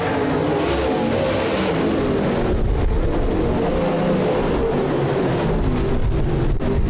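Midwest Late Model race cars at Rapid Speedway roar down the front stretch during a heat race, a loud continuous engine drone with no pauses.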